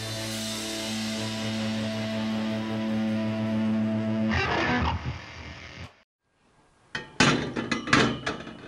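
Exhaust Y pipe tack-welded from 2-into-1 tubing of the same diameter: a steady hum gives way to a loud burst of crackling arc noise, a brief silence, then a cluster of sharp taps and clanks close by.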